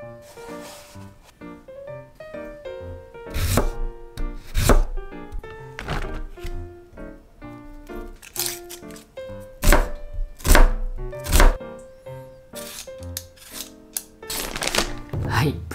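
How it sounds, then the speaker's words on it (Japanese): Knife blade knocks on a cutting board as a large batch of vegetables is chopped for seafood curry, irregular bursts of crisp, near thunks over a layer of talk. "今回もね野菜を大量に切っていくので"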